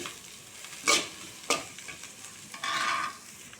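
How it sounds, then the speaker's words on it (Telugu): Chopped onions and coriander fry in a pan with a soft, steady sizzle, broken by a few sharp scraping stirs and a louder burst of frying near the end. "దీంట్లోనే కట్ చేసి పెట్టుకున్న ఉల్లిపాయలు, కొంచెం కొత్తిమీర వేసి కొంచెం ఫ్రై అవ్వనివ్వాలి."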